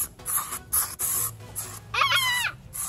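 Several short hissing bursts of bug spray at a campsite, close and fairly loud, separated by brief pauses, with a faint chirpy sound near the end.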